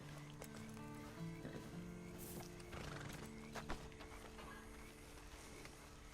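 Horse neighs and clip-clopping hooves from the video game Red Dead Online, set at a bandit camp, with a whinny near the middle over steady hoof beats and a continuous musical or ambient bed; no speech.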